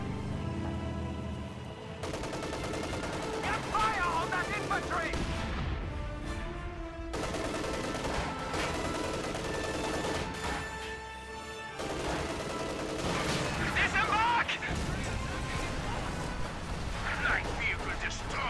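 A mortar barrage and rifle fire fill a video game battle with continuous heavy gunfire and booming blasts that barely let up, while a commentator talks over the din.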